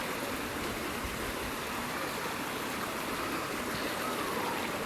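Water flows in a stream at a spring resort, a constant broadband rushing and babbling that stays steady and fairly close, with no voices.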